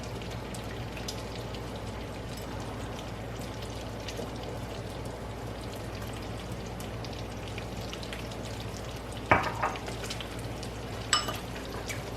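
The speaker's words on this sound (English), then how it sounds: "So we're letting this sizzle up." Steady crackling sizzle of pancake batter frying in a pan, continuous and close, with a couple of brief clinks near the end.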